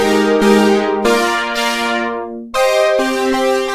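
A buzzy pulse-width-modulated synthesizer tone plays sustained chords that fade and retrigger, its nasal timbre slowly shifting, loud and up front with no voices.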